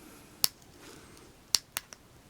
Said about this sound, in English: Those are ratcheted. Maybe you can hear the clicking.